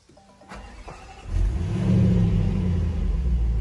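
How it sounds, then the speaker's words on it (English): A Range Rover Sport SVR engine starts up after a few quiet clicks, cranking into a loud, deep idle that settles into a steady rumble. "fires up pretty calm. It's calmer than when you rev it"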